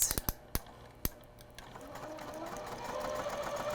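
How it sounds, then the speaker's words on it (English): Sewing machine chain-piecing rows of a half-hexagon jelly roll quilt, starting with a few sharp clicks and thumps, then settling into a steady, close whirring stitch that gradually builds louder. "This is where I chain sew it together."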